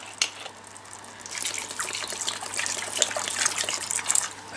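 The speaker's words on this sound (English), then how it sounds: "so I add a little bit more water" Water poured into a pot of cooking spices, a moderate splashing gush and trickle that builds after a brief start and continues steadily, fairly close.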